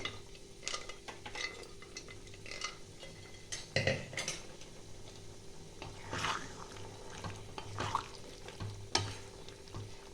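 Mutton kheema ghugni with boiled peas and potatoes being stirred in a pan, with scraping and clinking of a spoon against the pan in irregular bursts over a faint steady simmer, close and moderately quiet.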